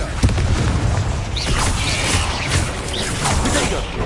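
Confringo blasting-spell explosions in Hogwarts Legacy, a muffled boom followed by crackling, whooshing spell effects and rumbling debris during a duel, loud and continuous throughout.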